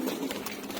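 Pigeons coo softly in a short, faint burst against a steady background murmur.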